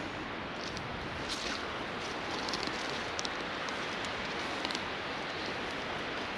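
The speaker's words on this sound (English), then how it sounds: "I think it's starting to spit now" Light rain begins falling on a wild campsite in the UK, a steady soft hiss with scattered faint ticks of drops, even and continuous throughout and with no voices.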